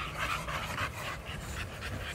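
A female bully-breed dog pants steadily up close, a rhythmic run of quick breathy huffs with a faint low rumble underneath, going on with no voices.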